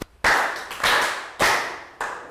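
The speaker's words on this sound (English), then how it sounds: "3 claps." Children in a classroom English lesson clap together in sharp, evenly spaced group claps, three main strikes plus a softer fourth, close and crisp.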